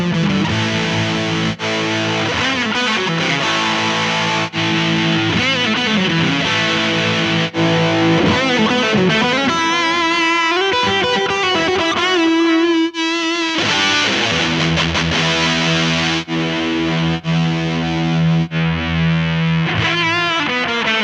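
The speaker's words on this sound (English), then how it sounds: "I can choose tube driver or juicer drive or vintage OD or super drive, and they all have different sounds." An electric guitar plays chords and riffs through a Mooer GE100 multi-effects unit's overdrive, thick and distorted, loud and alone with no talk.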